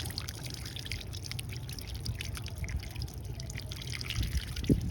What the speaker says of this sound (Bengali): এটা আমরা ধুয়ে নিচ্ছি এখানেই